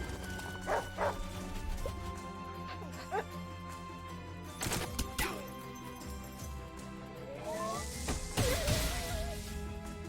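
Dog unit in the turn-based strategy game Wargroove giving several short yips and barks with a whimpering whine, among chimes and clinks of game effects, with a voice talking over it.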